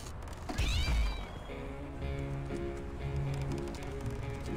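A cat meows in the video game The Simpsons Hit and Run, one clear near meow rising out of steady game background sound and music.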